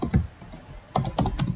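Typing an SQL insert query on a computer keyboard, with a few close key presses at the start and then a quick burst of crisp clicks near the end.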